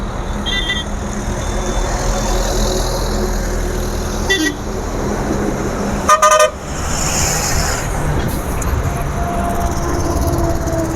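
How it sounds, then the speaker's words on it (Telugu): A lorry on a road sounds its horn in several toots, short blasts early on and a louder burst in the middle, over steady traffic and engine rumble nearby. "లారీ అన్న హార్న్ అయితే కొట్టాడు."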